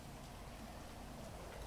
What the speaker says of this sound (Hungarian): Elállhatna ez a retkes eső most.